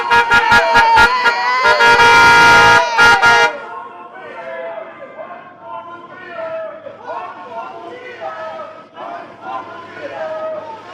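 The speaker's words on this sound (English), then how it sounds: "Honk your horn for Mumia." Car horns blare in repeated short honks and a long sustained blast at a street protest in support of Mumia Abu-Jamal, followed by a crowd chanting and shouting.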